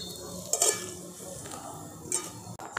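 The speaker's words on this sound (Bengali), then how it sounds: "দেখুন আমি এইভাবে সমস্ত বড়াগুলোকে ভেজে নিচ্ছি" Mung lentil fritters frying in oil make a low, steady sizzle with a few light clinks of a utensil against the pan, fairly quiet and without speech.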